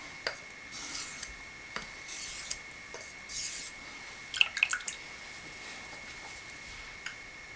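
A straight razor is honed on a single coticule stone, giving soft, quiet rasping strokes in a few separate bursts with a cluster of brief scrapes near the end, heard alone in a hushed room.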